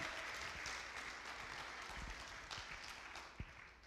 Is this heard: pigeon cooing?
no